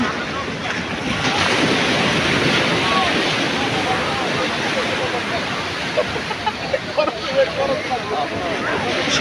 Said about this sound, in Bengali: বিশাল বিশাল ঢেউ আপনারা দেখতে পাচ্ছেন রাত্রবেলা